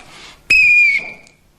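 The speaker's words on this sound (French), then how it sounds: "Et quand il y a le coup de sifflet" A single sharp whistle blast, loud and steady for about half a second, then fading, with near silence around it.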